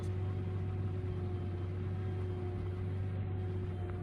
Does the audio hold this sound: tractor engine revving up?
yes